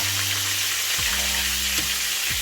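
Frog legs frying in hot oil, a loud continuous close sizzle with a soft hiss and occasional bubbling shifts as the pieces move.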